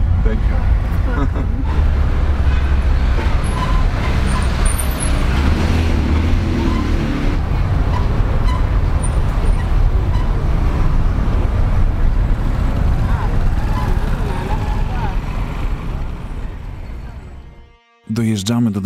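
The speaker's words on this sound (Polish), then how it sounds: "Dojeżdżamy do dworca autobusowego w Mbararze, który bardzo lubię za jego chaos i koloryt." Arrival at a busy bus station in Mbarara, Uganda, with a loud steady vehicle engine rumble and road noise mixed with wind buffeting, ending in a brief dropout before the rumble resumes.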